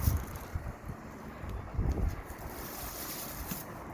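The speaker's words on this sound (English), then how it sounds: "It's just a little windy today." Wind gusts blow steadily outdoors, buffeting the microphone with a low, rumbling roar and rising and falling surges, no voices.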